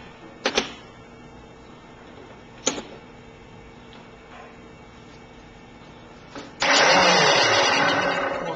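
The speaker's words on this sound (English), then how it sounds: "I'm going to plug in this 7-inch worm drive handsaw." A 7-inch worm drive handsaw gives a few short clicks and taps, then spins up loud and runs steadily for the last couple of seconds, with no one speaking.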